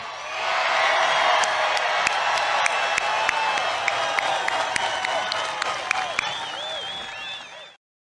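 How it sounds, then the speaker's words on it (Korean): A large crowd at a Donald Trump rally speech in Illinois erupts in sustained applause and cheering, with whoops and whistles rising above the clapping before it cuts off abruptly. "사람들이 와 하고 박수를 치는"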